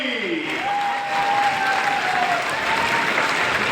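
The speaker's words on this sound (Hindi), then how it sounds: "जोरदार तालियां उनके लिए भी।" Loud, dense applause from a large crowd at a political rally in Nandgarh, with a voice faintly audible beneath the clapping.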